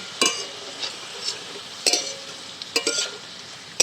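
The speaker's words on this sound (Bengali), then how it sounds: "তেল ঝরিয়ে খুব ভালো করে আমি তুলে নিচ্ছি।" Fried potatoes for shukto are lifted out of hot oil with a metal slotted spoon, a few sharp clinks and scrapes against the pan over a faint sizzle, spaced irregularly.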